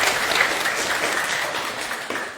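Audience applause at a lecture, a steady wash of many hands clapping for a couple of seconds and gradually tapering, heard alone without talk.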